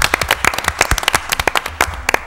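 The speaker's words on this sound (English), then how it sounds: "I think we owe them a round of applause." Clapping at a Mobile, Alabama city council meeting, close and loud, with sharp uneven claps from a modest group packed tightly across the whole stretch.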